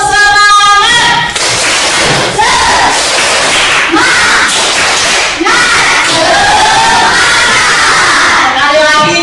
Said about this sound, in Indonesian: Sebelum pulang kita tepuk semangat dulu Nak ya